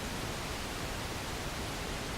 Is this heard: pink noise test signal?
yes